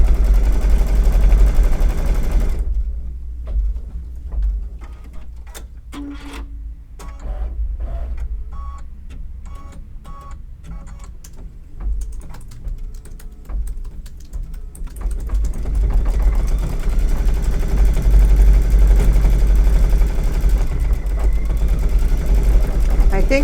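An embroidery machine stitches out a Kimberbell spring flag design, a rapid mechanical ticking and needle clatter in bursts and steady runs, with a loud low hum around it and a person talking at times.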